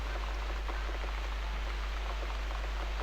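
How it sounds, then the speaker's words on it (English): Steady rain from the video game The Cat Lady pours without a break, a dense, even hiss of drops on surfaces that stays quiet and uniform throughout with no talking. "Looks like we've got the rain back."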